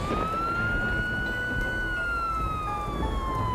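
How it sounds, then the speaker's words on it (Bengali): A police car siren wails loudly and continuously as the car pulls up in front of a home on a rainy night, with one long rising and falling tone over a steady low engine rumble. "সাইরেনের বিকট শব্দ তুলে পুলিশের গাড়ি এসে থামল হোমের সামনে।"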